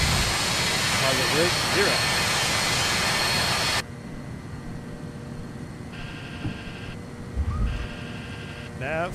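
MD-80 jet airliner rolling for takeoff in a flight simulator, a loud broadband engine roar that abruptly drops to a quieter cabin hum, with voices talking over it.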